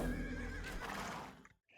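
A horse neighs in Age of Empires II, a loud, close whinny lasting about a second and a half that fades quickly into near silence.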